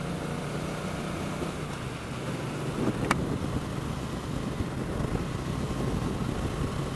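A Triumph Street Cup motorcycle accelerates on a motorway, its engine buried in a steady, loud rush of wind that barely changes over several seconds, with one brief sharp tick partway through.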